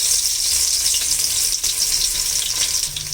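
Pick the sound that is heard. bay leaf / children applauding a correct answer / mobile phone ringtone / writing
bay leaf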